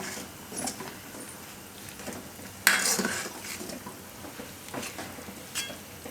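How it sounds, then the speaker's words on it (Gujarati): Fried pakoras being stirred into a spinach yogurt curry in a pot: soft scraping and light clinks of a spoon against the metal, with one sharper clang midway, fairly close and quiet. "તો હવે આમાં આ પકોડા નાખી દઈશું આપણે. તો આને મિક્સ કરી લઈશું આપણે."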